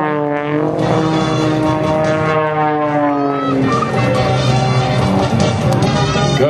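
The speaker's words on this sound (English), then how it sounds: "the pilot would race the skydivers back to the ground, putting the plane into a steep spiral" An aerobatic airplane's engine drones loudly and steadily as the plane drops through a steep spiral, its pitch falling then holding, with a faint voice over the roar.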